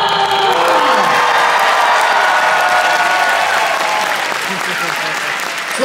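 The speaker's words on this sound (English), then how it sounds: "can I get a warm, big round of applause for our 2021 first place champion, Reba!" Loud, sustained applause and cheering from a large audience fill the whole stretch, honoring the 2021 first-place champion at a dance competition, with whoops rising over the clapping and a faint voice beneath.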